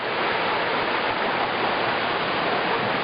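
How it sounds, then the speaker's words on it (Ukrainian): River water rushes through the Yamnensky canyon in a steady, loud, unbroken wash with no voices. "Ось яка водичка цієї річки."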